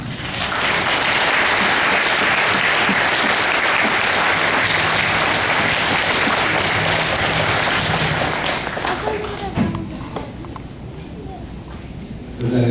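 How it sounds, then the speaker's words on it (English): Audience applause fills a graduation ceremony at Red Lake Nation College, a dense, loud wash of clapping that holds steady for about ten seconds before thinning out toward the end, with some voices mixed in. "let's give them a big round of applause"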